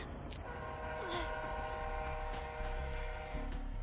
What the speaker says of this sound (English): Sorry, super obnoxious train incoming.